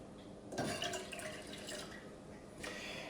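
Water poured into a dye mixture, a soft liquid splash and trickle that starts suddenly, runs about two seconds, then picks up again briefly, faint and close.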